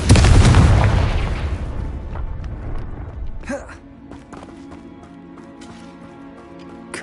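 A Confringo explosion spell goes off in Hogwarts Legacy: a loud, close burst opens with a broad rumbling roar that slowly fades over several seconds, followed by a sharp crack and scattered smaller impacts over a lingering tonal hum.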